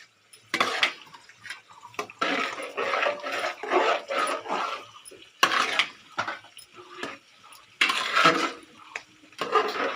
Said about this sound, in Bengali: আর আমি এদিকে খিচুড়িটা একটু নেড়ে দিচ্ছি